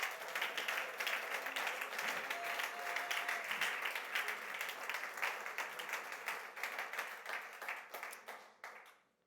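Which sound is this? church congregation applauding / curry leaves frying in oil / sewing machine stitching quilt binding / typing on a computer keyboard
church congregation applauding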